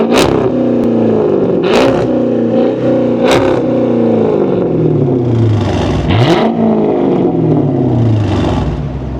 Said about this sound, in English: Let's hear it, man. Let's rev it up